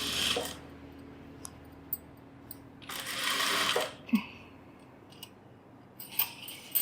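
A sewing machine stitches a chudithar in short, intermittent bursts, with brief whirring runs separated by pauses, small clicks and fabric rustling, close and moderately loud.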